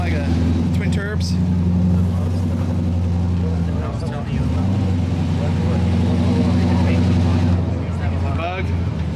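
A close, steady twin-turbo Volkswagen Beetle engine drones and rumbles with a low throaty hum, briefly dipping midway, while people talk over it.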